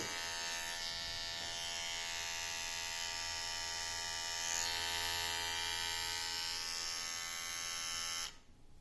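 A Wahl stainless steel lithium-ion cordless hair trimmer buzzes steadily at close range with a constant electric hum for several seconds, then cuts off abruptly.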